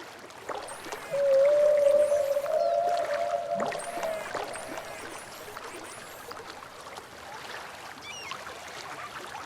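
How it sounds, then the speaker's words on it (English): Whale song from the sea life enclosure in the Cities: Skylines video game: long rising and falling tonal calls over a soft watery ambience, one strong sustained call early, then fainter cries trailing off. "I think the whale song is my favorite part of it."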